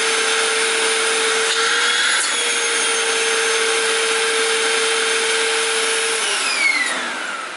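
Hoover corded vacuum cleaner running steadily, a loud constant whining motor drone with a high pitched tone that drops slightly near the end as it winds down, no talk.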